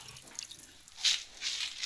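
Water hisses in short spurts from a pig drinker faucet in a piggery, two brief bursts of spray close by.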